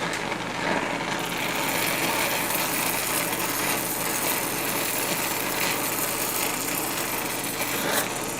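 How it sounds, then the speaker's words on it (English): Welding torch with a welding tip heating a steel disc, a steady, loud, close roaring hiss of flame that holds unbroken from start to finish. "I've put the welding tip on rather than the burning one, because I want to really heat just this steel disc"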